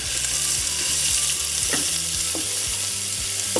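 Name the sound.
sliced onions frying in hot oil with fennel seeds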